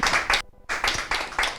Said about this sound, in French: On applaudit pour elle.